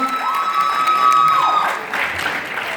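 A short burst of audience applause at a Jabardasth comedy show in New York, with dense clapping from a crowd and a sustained whistle-like tone running over the first half.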